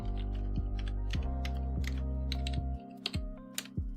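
Computer keyboard keys clatter in quick irregular taps, with a few louder clicks standing out over a steady low electrical hum, close and alone.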